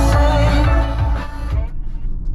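A 2023 Audi Q8 55 Premium's car radio plays at full volume inside the cabin, a loud, dense wall of sound that cuts off after about a second and a half, leaving only a low rumble.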